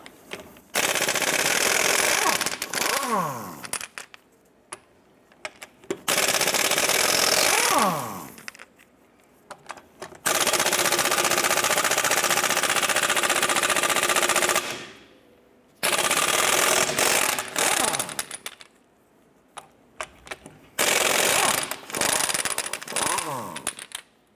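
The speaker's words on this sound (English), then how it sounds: "Using our 19mm socket, let's go ahead and remove our lug nuts." Lug nuts come off a 1993-1997 Ford Ranger with a 19mm socket on an impact wrench, which fires in several loud, long rattling bursts separated by short quiet gaps.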